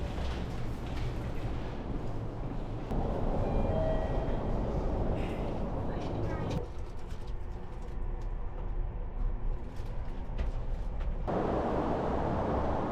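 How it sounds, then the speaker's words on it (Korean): Steady traffic noise from the adjacent Shuto Expressway in Japan forms a constant broadband roar, loud and unbroken, with shifting swells as vehicles pass and faint chirps above it. "바로 옆이 저 수도고속도로라 시끄럽네요"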